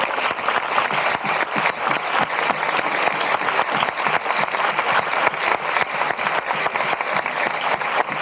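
A large festival audience at the Fiestas del Pilar gives a loud, sustained ovation of dense applause that holds steady for the whole stretch, with no voices breaking through.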